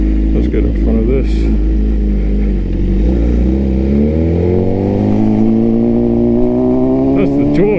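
Motorcycle engine rumbling steadily while riding through heavy traffic, loud and close throughout, with engine pitch rising as the bike accelerates midway and other vehicles around.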